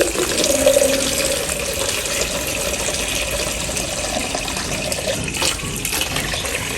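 Running water from a tap for bathing, a steady close splashing stream that continues evenly throughout with no voices.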